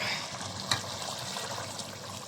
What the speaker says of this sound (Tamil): சுத்த தண்ணியை ஊற்றிங்க.